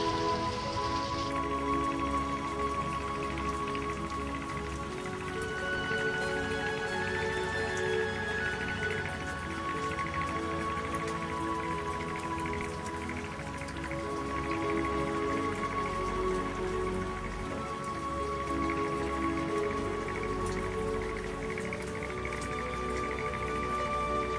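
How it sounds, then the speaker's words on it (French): Steady rain showers pattering on a sailboat, a dense continuous patter of drops at moderate loudness with no talk throughout. "cet après-midi, des averses, shower comme ils disent ici"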